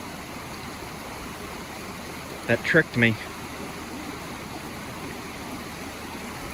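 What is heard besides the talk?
creek water flowing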